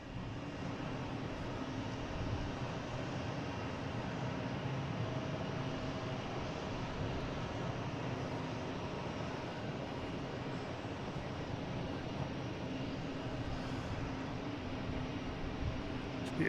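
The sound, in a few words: Lufthansa Boeing 747-8 jet airliner at Boston Logan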